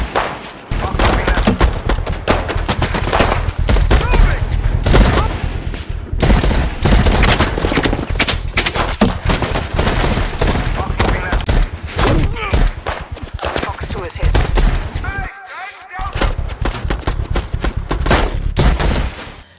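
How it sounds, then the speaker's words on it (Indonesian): Dense, sustained gunfire from a film shootout with police, rapid automatic bursts and single shots crackling loudly almost without pause, with one brief lull. "Alhasil, adu tembak pun terjadi."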